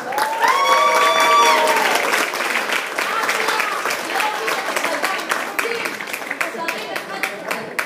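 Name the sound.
audience applause at a hotel musical show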